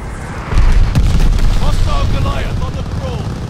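A glide bomb detonating in Call of Duty: Vanguard, a deep booming blast with a rumbling tail, while voices talk over the aftermath.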